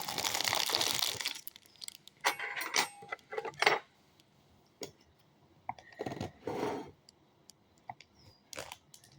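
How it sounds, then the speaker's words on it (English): A knife cuts into a Tortuga Kentucky bourbon butter cake in its packaging, giving close, intermittent crinkles, crunches and soft scraping clicks separated by quiet pauses. "You can't see me cutting into the cake, I'm sorry."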